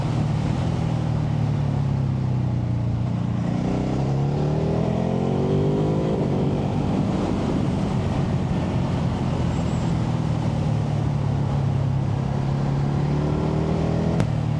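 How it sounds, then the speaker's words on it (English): A Ducati Hypermotard 950 RVE motorcycle runs through gear changes, its engine drone rising and falling in pitch across repeated shifts, steady and fairly loud over continuous wind and road noise, with no talking. "Oh, listen to those gear changes."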